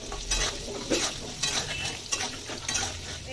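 Papaya pieces fry with salt and turmeric, a close sizzle overlaid by repeated spatula scrapes and light clinks against the pan in a loose, rhythmic stirring pattern.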